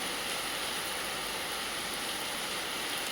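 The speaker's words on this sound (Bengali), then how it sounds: "খুব জোর বৃষ্টি পড়ছে" Heavy rain pouring down, a dense, even hiss of falling water that stays constant throughout with no voices.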